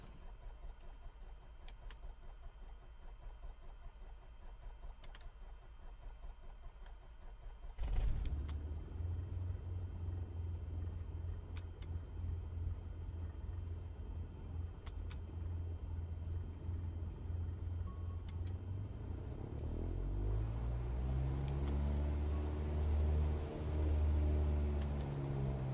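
An aircraft engine in a flight video game throttles up: a low, steady rumble starts abruptly a third of the way in, then swells louder with a rising, wavering drone near the end, with no voices.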